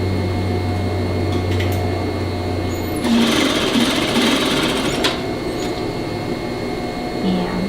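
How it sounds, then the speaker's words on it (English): A sewing machine stitches fabric for a vest, running steadily up close with a brief louder, faster burst in the middle, while the fabric is gently stretched as it feeds through. "See, I'm a little stretching just a tad as I'm sewing."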